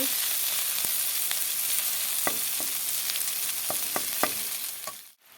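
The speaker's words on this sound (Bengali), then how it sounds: "হলুদ দিয়ে এখন এটাকে পুরো লাল করে ভেজে নেব" Katla fish pieces, fried potatoes, onion and green chilli sizzle steadily in hot oil in a pan with turmeric, with a few sharp spatula scrapes and pops over the constant close frying hiss.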